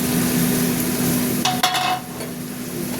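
A spice paste of ginger, garlic, chilli powder and turmeric fries in oil in a pan for a prawn curry with pointed gourd and potato. It gives a steady close sizzle with a brief burst of stirring and scraping midway, and no talk.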